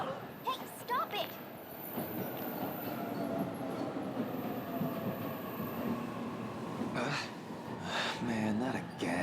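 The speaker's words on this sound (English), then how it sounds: "Well, that's my train." A train pulls in within the game 13 Sentinels: Aegis Rim, a steady rumbling rail noise running throughout with clattering bursts near the start and end, while voices talk over it.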